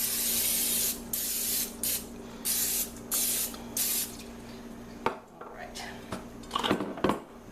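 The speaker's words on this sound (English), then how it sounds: "I'm going to go ahead and spray my pan with my cooking spray." Short hissing bursts of cooking spray aimed at a pan held over a kitchen sink, several close pulses about a second apart, followed by clinks and light handling noises.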